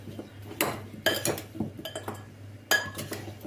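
A spoon stirs and scrapes a garlicky mixture in a bowl, giving a run of bright clinks and knocks against the sides in uneven bursts, close up and clear, with no talk.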